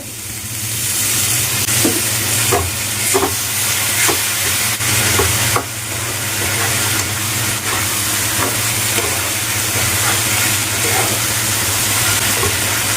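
Potatoes cooking in a pan with water added, a steady loud sizzle and bubbling hiss throughout with faint scraping, no voices.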